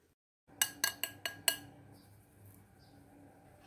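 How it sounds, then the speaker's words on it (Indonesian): A metal sieve sifting the dry ingredients for a rolled sponge cake gives five sharp, evenly spaced metallic clinks close by, then a soft, low rustle trails off. "Selanjutnya siapkan ayakan dan kita ayak bahan A supaya nggak bergerindil"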